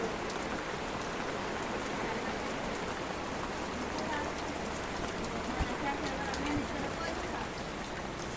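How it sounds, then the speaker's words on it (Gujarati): Light, steady rain patters without a break at a farm plot on a cloudy day, a soft continuous hiss of drops on surfaces with a voice talking faintly underneath. "ધીમો ધીમો ધીમો ધીમો વરસાદ ચાલુ થઈ ગયો."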